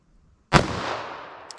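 A single sharp .45 ACP full metal jacket shot fired into ballistic gel, a loud abrupt crack followed by a long decaying outdoor echo and a faint click near the end.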